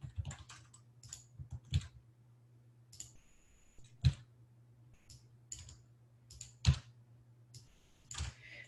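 Computer mouse clicks during a web development lesson, a quiet scattering of crisp, close clicks, some in double pairs, with a few louder ones standing out over low room hum.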